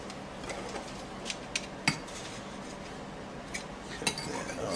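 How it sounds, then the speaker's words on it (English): A garlic press squeezing a clove of garlic into a measuring cup, with faint metallic clicks and a few sharper clinks over quiet kitchen room tone. "I want to take my garlic press, and I'm going to press a clove of garlic right into my measuring cup here"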